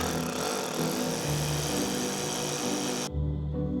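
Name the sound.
power drill drilling anchor holes for pool cover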